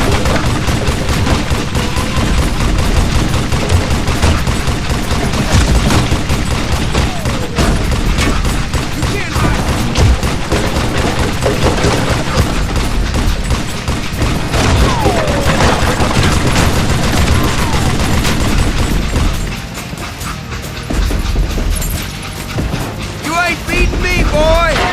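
Dense, loud gunfire from the Call of Juarez Gunslinger western shooter, with rapid overlapping shots and bursts running almost continuously, dipping briefly near the end before resuming.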